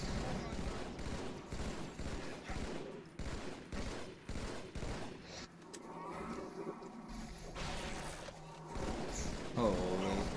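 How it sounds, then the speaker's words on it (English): Rockets and gunfire in the video game Halo 2, a dense run of sharp repeated blasts and bursts up close, with some louder impacts and mechanical clatter. "Oh, stop shooting rockets at me, dude."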